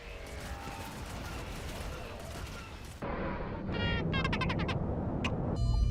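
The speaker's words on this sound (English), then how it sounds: "my absolute favourite sound is the seismic charge sound that becomes the special attack of the final behemoth upgrade" Seismic charge special attack from the Renegades video game: a loud, dense rumbling blast, then a sharp shift into crackling, zapping electronic bursts with bright chirps, close and continuous.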